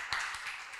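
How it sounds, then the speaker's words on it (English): Applause from a summit audience for a speaker at a startup demo day, a faint, diffuse wash of clapping with a few slightly stronger bursts, heard from a distance in a large room. "A round of applause to"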